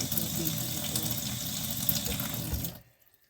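Water from a tap runs steadily into a sink to wet a banana lumpia wrapper, a continuous close hiss that cuts off sharply near the end, leaving near silence.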